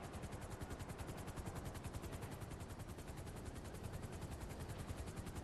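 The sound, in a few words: helicopter in video game GTA Online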